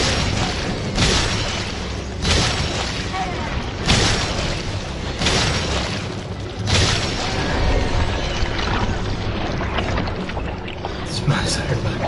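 Gunfire from Resident Evil plays as a series of heavy, booming blasts about every second or so, loud and dense with background game noise throughout.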